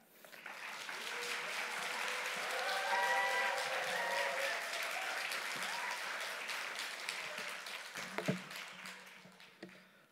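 A church congregation gives a Wednesday worship service's newly ordained pastor a welcome with steady, sustained applause from a large crowd. It swells to a full, even roar, then tapers off near the end, with a few faint knocks.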